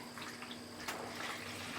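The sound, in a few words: water being poured into a bowl for bread dough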